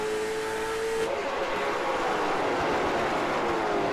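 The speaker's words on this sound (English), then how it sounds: "as you hear him feather the throttle through 1 and 2 down the back straightaway they go" Late model stock race car on the back straightaway at a short oval track, its engine note wavering as the throttle is feathered, a steady distant roar with no talk over it.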